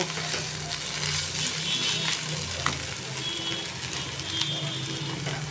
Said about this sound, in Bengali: তেলের ওপর আলু ভাজি কাঁচা লঙ্কা আর পাঁচ ফোড়ন দিয়ে আলু ভাজাও প্রায় হয়ে এসেছে